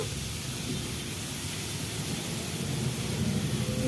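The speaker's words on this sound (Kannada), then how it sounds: "ಚೆನ್ನಾಗಿ ಫ್ರೈ ಮಾಡಿಕೊಂಡು" Egg masala with tomato frying in a pan gives a steady close sizzle and hiss with no break, and no voices over it.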